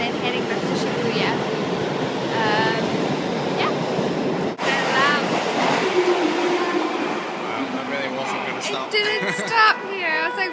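A train rumbles steadily through a station in Japan, with squealing wheels and clattering carriages, while people talk nearby.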